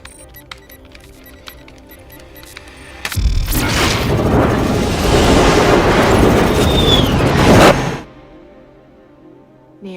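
Heavy gunfire and explosions in an action movie scene burst in loud and dense after a quiet stretch, a sustained roar of shots and blasts lasting about five seconds, then cut off into near silence.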